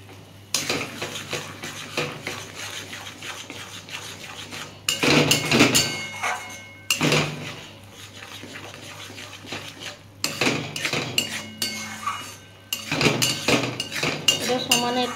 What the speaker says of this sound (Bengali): সমানে একটু নাড়তে হবে।